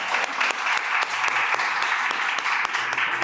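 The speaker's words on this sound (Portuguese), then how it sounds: "uma salva de palmas para ela" Warm applause in a church welcoming a new member, a close, steady patter of many hands clapping without a break for a few seconds.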